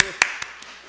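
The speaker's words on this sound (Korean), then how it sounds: "박수." Three sharp, evenly spaced claps at a Buddhist dharma gathering, each crisp and brief, the later ones fainter, over a quiet room background.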